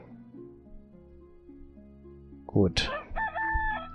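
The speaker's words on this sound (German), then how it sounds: "Der Hahn kräht." In the video game Towns, a rooster lets out a loud, rising cock-a-doodle-doo near the end, after a quiet stretch of low music. Someone says one brief word just before it.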